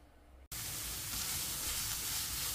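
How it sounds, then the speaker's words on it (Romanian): Onion hits a hot pan with a little tomato juice and bursts into loud, steady sizzling frying after a quiet start, continuing evenly up close with no talk. "O să trag la tigaie cu puțin suc de roșii."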